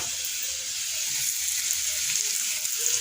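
Salted, hand-mixed potatoes sizzle in hot oil in a home pan, a steady, loud crackling hiss with no talking.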